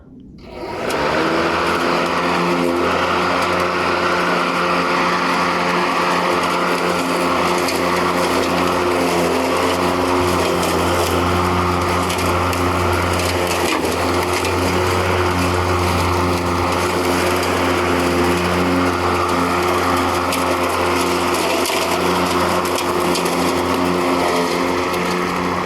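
A Mowrator S1 AWD remote-controlled lawn mower runs with its blades engaged while climbing a grassy hill, making a continuous loud electric whine and motor hum that holds steady throughout.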